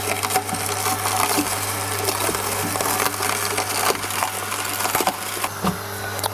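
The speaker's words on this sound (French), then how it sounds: "la vis sans fin ici vient vraiment, tourne complètement et vient ramasser et vraiment extraire au maximum le jus de chaque élément" An Omega juice extractor's auger turning and crushing vegetables, a loud steady mechanical grind with a constant low motor hum, dense crackling and splintering snaps throughout, close and continuous.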